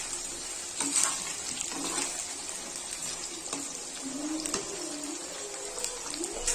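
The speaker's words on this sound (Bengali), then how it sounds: "আলুটা একটু ফ্রাই করে দেওয়া হচ্ছে।" Potato pieces fry in a pan for a home-style meat curry, a soft sizzle with intermittent scraping and stirring clatter, fairly quiet throughout, no speech.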